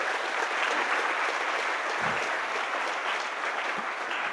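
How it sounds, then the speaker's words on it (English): A birthday crowd at a Lakeland briefing breaks into steady, dense group applause that fills the whole stretch evenly, close and loud, with no talking over it. "Give those a round of applause."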